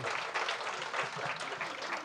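Applause from an audience at an alumni award ceremony, a soft but continuous wash of many hands clapping heard from a distance, with no voices over it.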